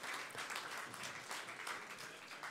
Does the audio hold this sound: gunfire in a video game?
no